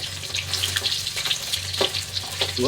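Smoked fish frying in hot oil crackles and sizzles close by, with bursts of popping spatter and occasional stirring clinks over a low steady hiss.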